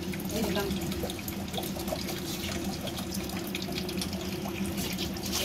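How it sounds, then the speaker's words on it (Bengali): Tap water runs steadily into a sink or basin while a pet is bathed indoors, a constant splashing flow heard close up with some faint background activity. "দেখছো দেখছো, আমার পুচুকে চান করাচ্ছি।"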